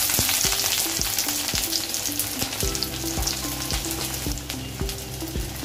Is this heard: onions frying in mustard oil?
yes